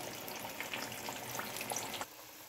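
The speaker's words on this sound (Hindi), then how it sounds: "इसी तरह बाकी जो चिकन रहता है हम उसको फ्राई करेंगे" Crispy fried chicken sizzling steadily in hot oil, a dense continuous frying hiss that drops away suddenly near the end, with no talking.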